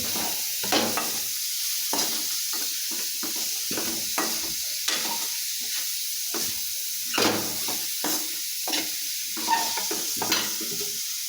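Vegetable curry frying in a little oil in a kadai, a steady close sizzle with repeated scraping stirs of the spoon at irregular intervals, no talking.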